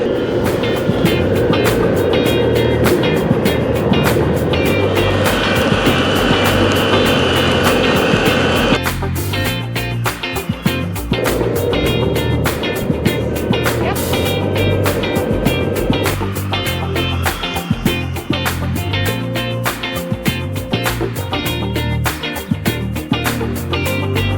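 An electric skateboard with rebuilt motors rolls steadily along, its wheels grinding with a continuous rumble and whine, loud and close, with no talking.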